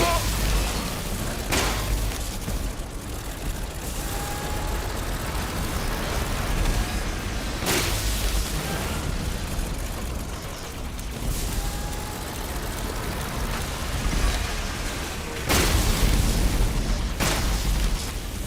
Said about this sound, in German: Eine Bombe!